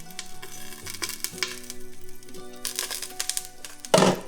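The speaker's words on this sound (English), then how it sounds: "Once the popping starts to slow down, remove from the stove" Popcorn kernels popping in a covered pot on a stovetop, a spaced-out scatter of sharp pops over a steady sizzle, with a louder burst near the end as the popping slows.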